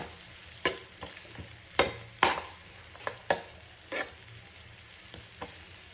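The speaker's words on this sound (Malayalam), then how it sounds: "അതിട്ടതിന് ശേഷം നന്നായിട്ടൊന്ന് ഇളക്കി കൊടുക്കണം." Kashmiri chili powder being stirred into onion rice frying in a pan: a soft steady sizzle broken by a string of irregular scraping and tapping stir strokes, close and fairly quiet, with no talking.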